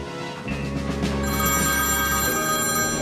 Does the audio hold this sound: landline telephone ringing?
yes